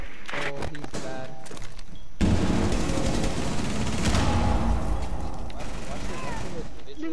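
Video game gunfire crackles in rapid bursts and scattered shots through a noisy firefight, mixed under the voices of players talking over each other.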